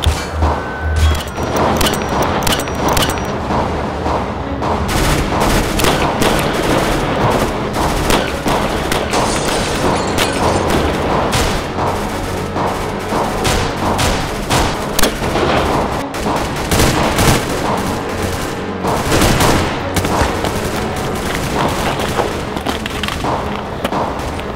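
Gunfire rattles through a staged military firefight, with dense, rapid volleys of loud shots and bursts close by, continuing throughout with no talking.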